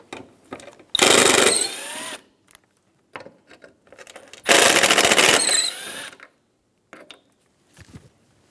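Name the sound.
removing Phillips head screws from Honda Accord bumper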